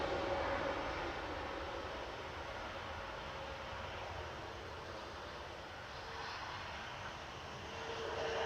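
An airliner departs Manchester Airport, heard as a faint, distant engine rumble that holds steady and swells slightly at the end, with no talk.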